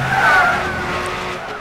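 Car tires in the video game Gran Turismo 6 skid and smoke, giving a loud, sustained squeal close by for about a second and a half, fading slightly at the end with no talk.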